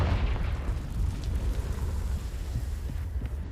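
A Confringo fire-spell explosion in Hogwarts Legacy: a loud, sustained low rumbling blast with a roaring wind-like tail and no clear onset.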